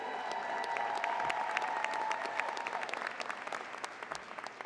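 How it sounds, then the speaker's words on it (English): Graduation ceremony audience giving sustained applause, dense clapping from a large crowd that is steady and then thins out toward the end, heard at a distance. "Graduates, give your families a round of applause,"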